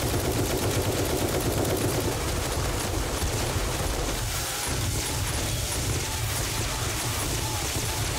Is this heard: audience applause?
no